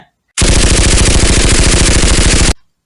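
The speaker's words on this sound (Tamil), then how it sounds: "ஜெர்மன் இயந்திர துப்பாக்கிகள் ஒரே நேரத்தில் பாடத் தொடங்கின" German machine guns at the Battle of the Somme fire in a dense, continuous burst of rapid rattling shots, loud and close, lasting about two seconds with no voices.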